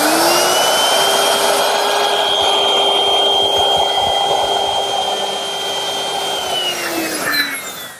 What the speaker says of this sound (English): I'm going to use my router. And I've set it up with a 1/4 inch rounding over bit.